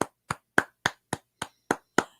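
Eight sharp hand claps in a steady rhythm, close and loud, each a short burst with nothing between.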